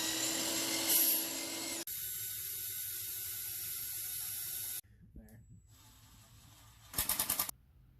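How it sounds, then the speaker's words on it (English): A power drill bores wiring holes through wooden spars for a teardrop trailer bulkhead, loud steady whining runs that cut off abruptly, followed by quieter hiss and a short burst of rapid grinding. "You can see we drilled our holes for wiring every 2 inches"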